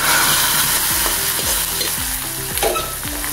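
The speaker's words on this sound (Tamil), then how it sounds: "கடுகு பொருந்தோடனே கருவேப்பிலை, அவ்வளவுதான். தூக்கி ரசத்தில் ஊற்றிக்கலாம்." Loud crackling sizzle as a hot tempering of fenugreek, mustard seeds and curry leaves is poured into rasam, with popping and spitting bursts over a bright frying hiss, close up.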